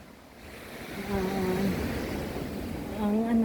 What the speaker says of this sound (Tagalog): mas malakas ang alon sa ngayon, guys.